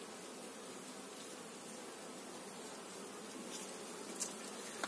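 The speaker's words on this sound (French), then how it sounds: "je vais concentrer surtout des ruches dans cette zone des ruches de souche Buckfast." Buckfast honeybees buzzing around outdoor beehives in an apiary, a dense continuous hum at a moderate distance, fairly faint and steady, with a couple of brief louder passes near the end.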